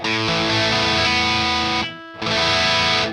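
An Enya Nova Go Sonic guitar is played through a distortion effect, a loud saturated chord ringing, cutting out briefly, then returning, with no voice.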